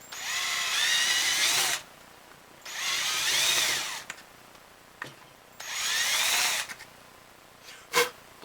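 Three bursts of a power drill whirring, each a couple of seconds long, drilling screw holes for a bow handle, separated by pauses with a few sharp clicks and knocks.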